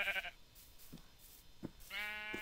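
Bleating sheep calls in Minecraft, a nasal bleat at the start and another at the end, with soft thuds between, fairly quiet.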